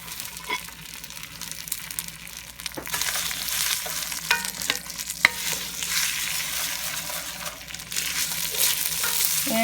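Long grain rice fries in olive oil in a pan over medium heat, a continuous close sizzle with occasional scrapes and clicks of stirring, no voices.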